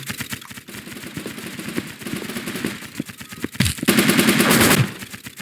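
Rapid automatic gunfire in the online shooter game Blockpost, clattering bursts throughout with a louder, denser volley near the end; loud and close, with no talk over it.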